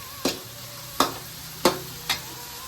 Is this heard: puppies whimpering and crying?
no